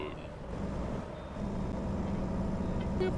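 A truck engine rumbles steadily with a faint electronic reversing beep toward the end, heard as game audio from American Truck Simulator.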